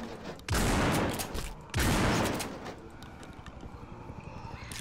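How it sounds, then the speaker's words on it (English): Two heavy shotgun blasts boom close and loud in the zombie survival game No More Room in Hell as a door is breached, each with a long rumbling tail, followed by quieter clatter. "Time for a shotgun breacher."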